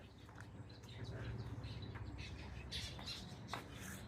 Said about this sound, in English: We've got lovebirds here.